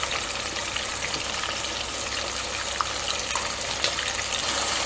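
Ginger garlic paste hitting hot oil with garam masala and onion for a beef tripe curry: a continuous, even sizzle, close and moderately loud, with a few faint clicks of stirring.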